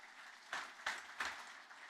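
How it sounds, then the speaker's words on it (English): Audience applause for Stéphane Rattel at the 2023 SRO Motorsports annual press conference, a soft, distant patter of clapping with three brief louder swells. "Please, ladies and gentlemen, a round of applause for Stéphane Rattel."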